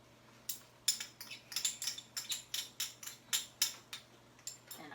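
Rapid, irregular clinks of a utensil against a pan as minced ginger is stirred into leeks, shallots, garlic and rice for risotto, about a dozen sharp close taps over a faint steady hum, no talk.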